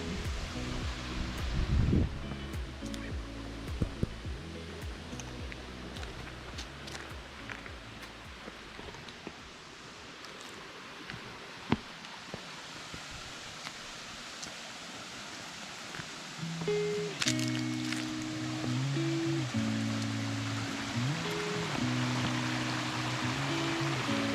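Water running along the channel of Tad Yord Suang waterfall gives a steady, broad rushing under the whole stretch, with a deeper tonal hum from a nearby motor or engine joining in the later part.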